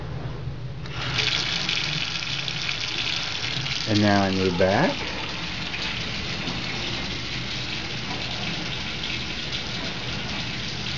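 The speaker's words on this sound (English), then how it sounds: "So the water's running in the sink," An ordinary kitchen tap runs steadily into a sink, a constant hiss of water starting after a brief moment, with a dishwasher nearby and a short spoken comment over it partway through.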